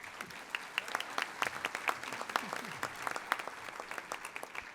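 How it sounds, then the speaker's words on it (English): An audience applauds Davis County High School students from the Future Business Leaders of America, steady dense clapping at moderate distance that carries through the whole stretch. "If you could please stand up so we can clap for you."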